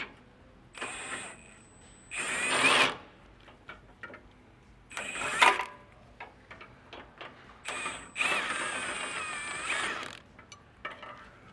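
A power tool loosens exhaust hanger bolts under a 2017-or-later Nissan Titan, sounding as several separate whirring bursts of a few seconds each with short mechanical pauses between them, close and fairly loud.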